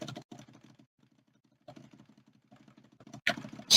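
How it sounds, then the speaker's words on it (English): Rapid bursts of mouse clicking during play of the Dofus computer game, quick close clicks in clusters separated by short pauses, with a louder click and thump at the end. "Spam clicking."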